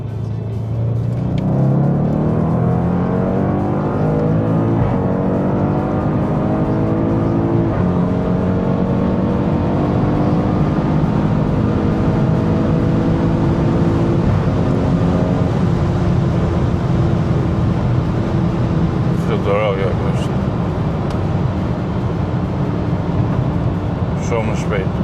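An Audi S8 Plus with a Stage 2 tune accelerates hard, its engine note rising steadily and loud for most of the run, then easing off near the end, with an occasional voice speaking over it.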